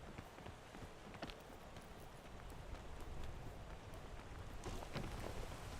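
Steady rain hisses in the PEAK video game, a dense, even wash of patter with scattered sharper drops, continuing throughout with no talk.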